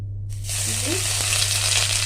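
Oil heating in a hot pan for a Bengali home-cooked dish sizzles steadily, with a broad, even hiss that swells after a brief quiet start and holds close and loud to the end.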